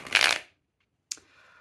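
A deck of tarot cards is riffled in a quick, close shuffle burst, then after a short pause comes a softer snap and brief rustle of cards.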